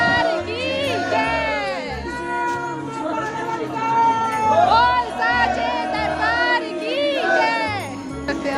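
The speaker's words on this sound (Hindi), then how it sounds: "यहाँ पे काफ़ी भीड़ आपको देखने को इस वक्त मिल रही होगी" Pilgrims crowd the path to the Vaishno Devi shrine during Navratri, a busy murmur of voices and chatter under loud nearby talking and an animal-like meowing or wailing cry.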